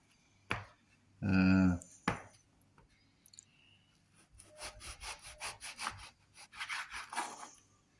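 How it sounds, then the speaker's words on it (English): A straight, hard knife saws the crust off three slices of bread frozen overnight, giving close, rasping strokes in short bursts. A brief voice is heard near the start. "Just cutting the crust off now again. 3 slices."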